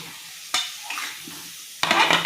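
Potatoes being stirred and sautéed in a pan of cooked-down spice paste, with short scraping stirs and a brief sizzle, then a louder burst of frying near the end, close up with no talking.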